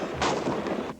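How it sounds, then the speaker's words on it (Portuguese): A burst of gunfire from a shooting near the airport in Rio de Janeiro: a loud, dense crackle of shots lasting under a second, sharp and close, with wind-like noise around it and no voices. "tiros. Muitos tiros."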